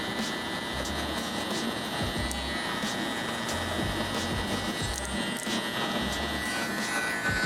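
Electric shaver buzzing steadily on hair during a barber's burst fade, a constant close hum with faint low knocks and handling noises, no talk.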